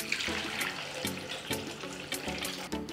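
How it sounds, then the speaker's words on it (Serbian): Hot water gushes and splashes into a pot packed with jars set up for pasteurizing, a close, steady pour that surges and gurgles in several uneven pulses. "ali neću sipati hladnu, pošto je vreo preliv, već vruću vodu"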